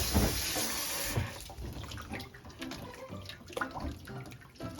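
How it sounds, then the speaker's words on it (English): Tap water runs steadily into a sink while raw chicken is washed with vinegar, a continuous splashing hiss with small clatters and shifts in the flow, close by and without talk. "You're gonna wash your chicken."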